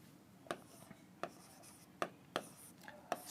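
Writing on a board during a trigonometry maths lesson gives faint, close, sparse taps and short scratches, about five or six strokes, in a quiet room.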